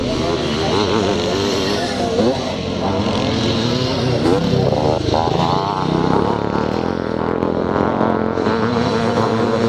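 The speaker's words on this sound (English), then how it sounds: "So your race leader is still number 26, that's James Thompson on the YZ490 Yamaha" Yamaha YZ490 motocross bikes race at a classic charity scramble in Northern Ireland, several engines roaring loud and continuous, rising and falling as they pass, with commentary over them.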